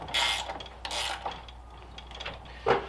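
A wrench tightens nuts onto the carriage bolts of a Toro Power Max 828 OAE snow blower, giving close ratcheting clicks and metallic rasps in a few uneven bursts.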